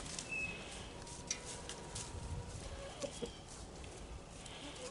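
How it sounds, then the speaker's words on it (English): Chickens, including a rooster, cluck softly while pecking at pumpkin in the yard, with faint scattered clucks over quiet outdoor background noise. "Chickens enjoy pumpkin."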